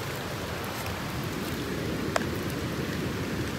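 Steady rain falling in a jungle, a dense even hiss of drops close around with one sharp drip or tap standing out briefly, no voices.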